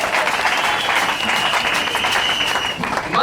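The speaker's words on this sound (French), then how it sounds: "Est-ce qu'on peut acclamer pour le couple Serge et Lucas?" A church congregation applauds a couple, steady dense clapping and cheering filling the room throughout, loud and continuous.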